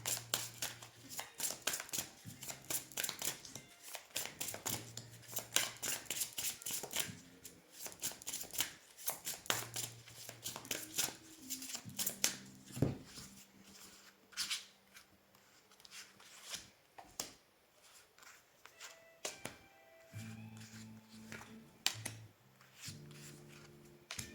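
Oracle cards shuffled and drawn by hand, a dense run of quick papery riffles and flicks, close and soft, then sparser card handling with faint tones in the background.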